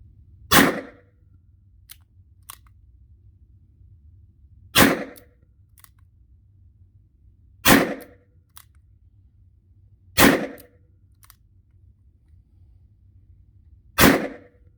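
A Colt Cobra revolver fires .38 rounds into a ballistic brick bullet trap: five sharp, loud single shots spaced about three seconds apart, each with a short ringing tail, alone with no talk.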